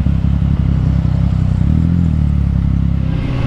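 A Yamaha MT-09 motorcycle engine drones steadily while riding, a loud, close, continuous low rumble with a brief change in pitch midway and no talking.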